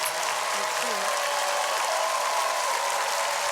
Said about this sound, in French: L'applaudissement, s'il vous plaît, pour nos invités.